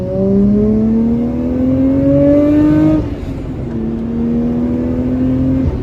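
A Nissan Skyline R34 GT-R engine pulls hard at full throttle, its loud rising drone climbing steadily through one gear, a brief dip at the shift, then climbing again.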